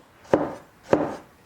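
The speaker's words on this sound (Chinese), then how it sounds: "现在把它切成丝" A knife chops seafood into thin strips on a board: two distinct, close thuds about half a second apart, each with a short wooden ring, and quiet between them.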